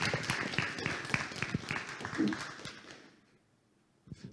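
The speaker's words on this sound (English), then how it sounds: "Hand of applause." Applause from a conference audience at a lightning-talk session, a fairly quiet patter of many hands that fades out toward the end before a brief noise at the close.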